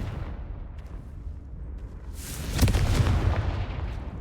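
Confringo fire spell explosion in the video game Hogwarts Legacy, a deep rumbling blast that swells midway and rolls on with a low boom and crackle.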